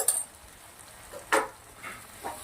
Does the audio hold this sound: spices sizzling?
yes